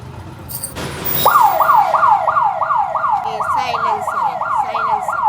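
A loud, close silencer siren wails in a rapid rising-and-falling yelp, cycling steadily after a short burst of noise at the start.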